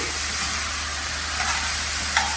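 Potato and masala stirred in a dry pan with no water, a steady broadband sizzle with faint scraping throughout, close and continuous, with a couple of brief clinks near the end.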